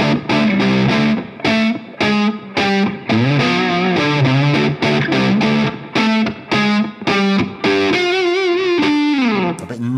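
A distorted electric guitar through a Diezel VH Micro amp head plays a choppy riff of bent notes and sustained chords, loud and close, with a wash of Line 6 reverb trailing behind.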